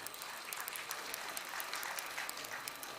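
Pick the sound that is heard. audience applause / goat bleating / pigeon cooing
audience applause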